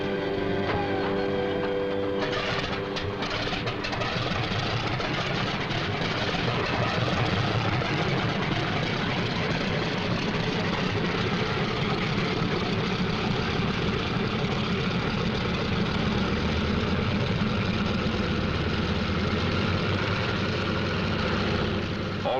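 Several WWII fighter plane engines idle steadily before takeoff, a continuous heavy propeller drone with a rough low rumble filling the whole stretch, loud and close.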